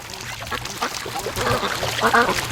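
Free-range ducks quacking in a muddy yard in the morning, a dense overlapping chorus of close, loud quacks growing busier toward the end.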